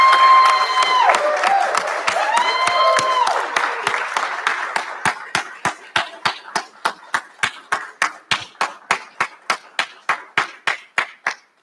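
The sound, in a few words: rousing applause at a recognition ceremony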